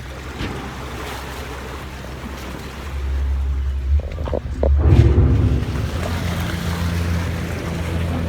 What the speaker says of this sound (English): boat ride in Venice continues